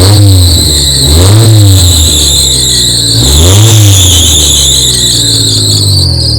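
A John Deere Gator utility vehicle engine with a high idle and a squeal from the rear revs twice, loud and close, with a persistent high-pitched whine over the rising and falling engine drone.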